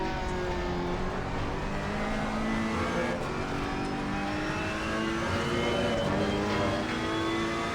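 A Ferrari EVO GT3 races around Silverstone in the Assetto Corsa Competizione video game, its engine droning steadily and rising and falling in pitch through gear changes, loud and continuous with no talk over it.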